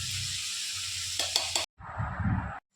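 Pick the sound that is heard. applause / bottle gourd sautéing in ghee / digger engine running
bottle gourd sautéing in ghee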